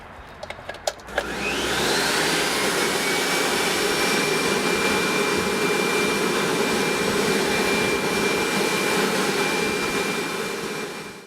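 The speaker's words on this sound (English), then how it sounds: "The blower is activated at a low setting." A blacksmith's coal forge blower starts up after a few clicks and runs at a low setting, giving a loud, steady whooshing drone that holds evenly before cutting off at the end.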